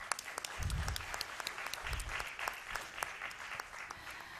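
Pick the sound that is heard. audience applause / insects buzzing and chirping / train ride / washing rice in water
audience applause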